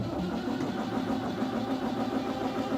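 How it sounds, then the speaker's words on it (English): A barge's engine being started, a steady loud mechanical chugging and churning that runs throughout without a break, close by and with no voices over it. "Here's our unfortunate barge captain, Jeffrey, trying to fire up the engines."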